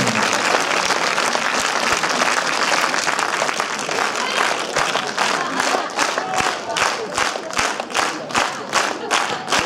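A cinema audience at a film premiere claps, at first as a dense, loud wash of applause, then settling into steady rhythmic unison beats, with crowd noise under it.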